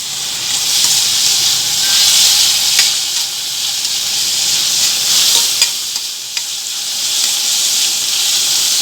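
Onion and tomato fry loudly in a pan, a dense continuous hiss of sizzling close up with a few faint taps from stirring, no talk.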